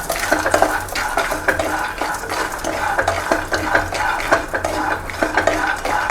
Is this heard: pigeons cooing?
no